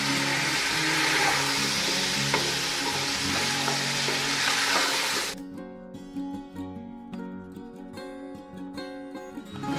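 Roughly 1 kg of chicken and half a kilo of potatoes fry in a pot with a loud, dense hiss. The sizzle abruptly drops to a quieter bubbling crackle halfway through, with occasional stirring knocks.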